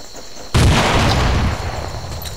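C4 charge detonating in the game Project Reality, a sudden loud blast after a quiet lead-in, followed by a long rumbling, crackling decay that stays heavy to the end.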